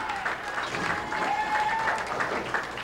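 A crowd at a candlepin bowling match at the Londonderry Bowling Center claps in continuous, moderately loud applause, with a commentator's voice faintly underneath.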